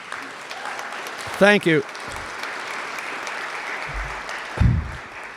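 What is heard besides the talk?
audience applause at awards ceremony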